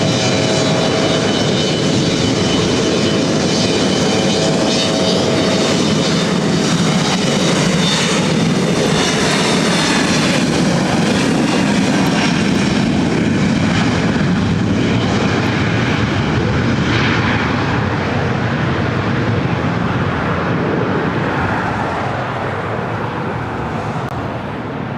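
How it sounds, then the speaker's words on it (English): A SkyWest jet flying as Delta Connection flight 3812 takes off from LAX bound for Sacramento, its engines a loud, continuous broadband roar that holds steady for the whole stretch and eases slightly at the end, with no talk over it. "It's flight 3812 SkyWest 134 Foxtrot taking off to Sacramento."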